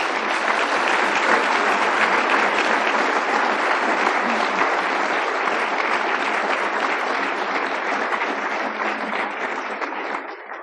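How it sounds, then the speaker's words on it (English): Sustained audience applause at a live event, a dense wash of clapping from a large crowd holding steady for about ten seconds before easing slightly at the end. "if you would give them a short burst of applause"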